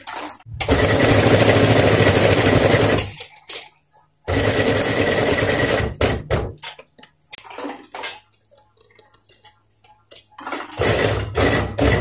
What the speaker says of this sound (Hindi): लेकिन अब इसको हम डबल सिलाई कर रहे हैं, इसलिए हम इसकी डबल सिलाई साथ ही लगा देंगे